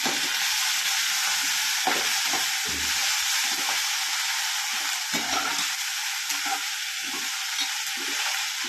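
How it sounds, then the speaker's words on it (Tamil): Coriander leaves and curry leaves with garlic, ginger and salt sautéing in a pan for chutney give off a steady, loud hissing sizzle, with occasional scraping taps from stirring and no voices. "வணக்கிட்டு இன்னும் உப்பு போட்டுட்டு வணக்கிட்டு இருக்கோம்"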